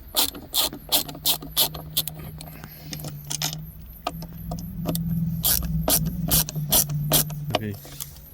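Screws are backed out of the center dash panel of a 2020 Mercedes-Benz CLA 250, with close, rapid ratcheting clicks in bursts, small mechanical rattles and a low hum underneath.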